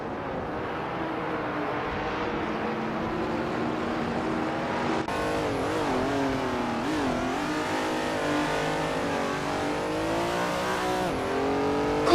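A 1972 Ford Falcon XA GT race car engine in a racing video game drones loudly and steadily, with revs climbing and dipping through gear changes and a sharper surge partway through.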